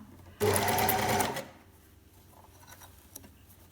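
A sewing machine stitches jersey fabric to make a cake-shaped sock cover, running in one loud, steady burst of about a second before stopping, leaving quiet handling noise.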